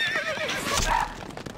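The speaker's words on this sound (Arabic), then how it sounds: "الفرس تعدو." A horse in Stronghold Crusader lets out a sharp neigh over quick clip-clopping hooves, loud and near, lasting just over a second with no speech.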